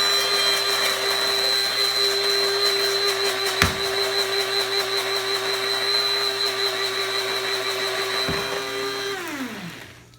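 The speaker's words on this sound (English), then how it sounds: "Now I'm sure to grind it very well because I want some nice fine pepper powder." An electric grinder whirs continuously as it pulverizes dried cayenne peppers into fine powder, a loud steady motor whine with a rattling edge that winds down and stops near the end.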